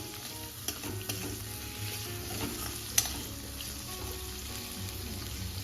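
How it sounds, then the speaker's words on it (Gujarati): Capsicum and tomato being stirred in a hot pan for a traditional Gujarati khichdo, with a steady sizzle throughout and a few soft scrapes of the spoon, one sharper clack near the middle. "હવે આપણે તેમાં કેપ્સિકમ અને ટોમેટો એડ કરીશું અને હવે આપણે બધું બરાબર મિક્સ કરી લઈશું"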